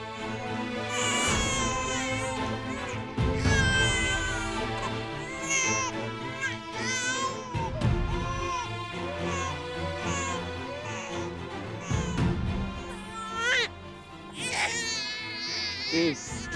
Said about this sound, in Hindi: बच्चे के रोने की आवाज।